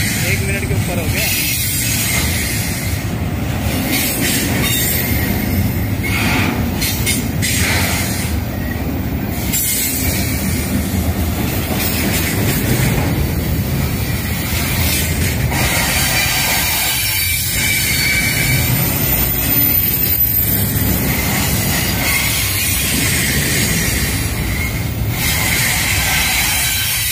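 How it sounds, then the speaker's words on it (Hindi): A very long Amtrak freight train rolls past close by in a steady, loud roar of wheels and rattling cars that lasts the whole stretch, with some squealing and clatter and a voice talking now and then. "बहुत बड़ी ट्रेन है।"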